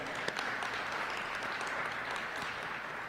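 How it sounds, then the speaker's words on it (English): A room full of people applauds at a charity recognition event, a fairly quiet but continuous patter of many hands clapping with a few sharper individual claps standing out. "Applause for that."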